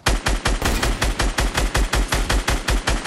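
Rapid, evenly spaced rifle shots in a shooter game, about a dozen sharp, loud cracks repeating in a steady automatic rhythm with no talk.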